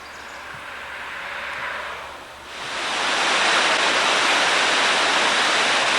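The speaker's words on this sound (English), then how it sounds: "This is McDonald Falls." McDonald Falls roars as a steady, broad rush of falling water, building in loudness partway through and holding strong to the end, with no voices.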